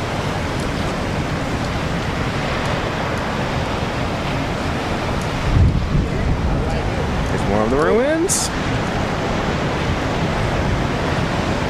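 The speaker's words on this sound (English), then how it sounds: "Oh, look at the waves." Ocean waves crash at the Sutro Baths ruins, a continuous broad roar of surf mixed with wind buffeting the microphone, while someone speaks briefly over it.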